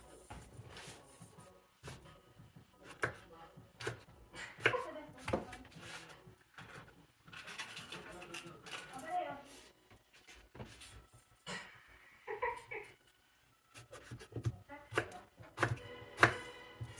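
A knife slices lettuce on a cutting board while tako sauce is prepared, giving irregular, sharp chopping taps in bursts with short pauses and soft background kitchen handling.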